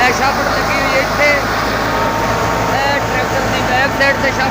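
A tractor's rear PTO shaft drives a wheat thresher during harvest, producing a loud, steady mechanical drone with a constant low rumble, while a voice talks over it.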